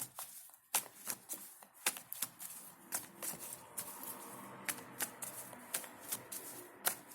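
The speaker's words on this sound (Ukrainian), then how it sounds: "Будь ласка, покажіть мені карти" Tarot cards riffle and snap in quick, uneven bursts, a crisp papery shuffling repeated many times, fairly close with no voices.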